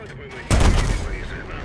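A sudden loud burst of gunfire rings out in a World War II video game set during Operation Overlord, a sharp onset followed by a decaying rumble under a faint voice.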